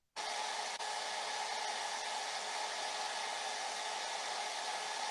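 A heat tool blows hot air onto alcohol inks on mineral paper, a loud steady whoosh that starts abruptly and holds constant throughout, close and alone without talk.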